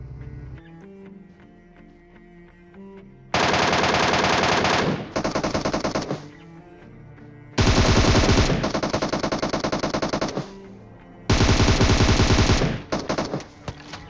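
Bursts of automatic gunfire from a battle royale mobile game, three long loud volleys of rapid shots separated by short quieter gaps.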